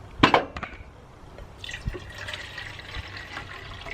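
Water is poured into a small camping pot outdoors on a breezy day, starting with a clattering knock and then becoming a steady trickling fill, close and moderately loud.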